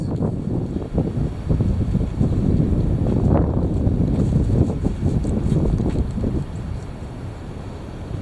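Steady wind buffets the microphone in a continuous low rumble for the whole stretch, with gusty swells and a slight easing near the end.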